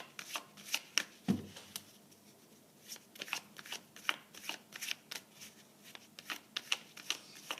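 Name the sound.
tarot cards being shuffled for a reading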